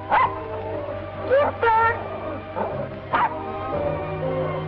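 A dog gives several yipping, whimpering barks at close range, spaced irregularly across the stretch, mixed in with someone talking briefly in a 1950 film noir scene.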